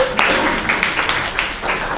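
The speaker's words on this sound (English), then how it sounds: "Big applause for Richard." Audience applause at a New York City Democratic club as Manhattan district attorney candidate Richard Aborn is welcomed: a dense, steady wash of clapping that fills the whole stretch with a few louder swells, with a voice briefly heard near the start.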